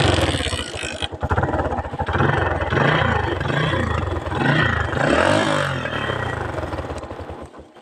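A road roller's engine is kick-started outdoors and then runs loud and close, a rough throbbing idle with rising revs that keeps going steadily.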